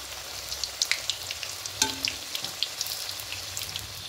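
Singaras made from leftover roti bubble and hiss in hot oil, a continuous near sizzle dotted with small crisp pops and a brief clatter partway through.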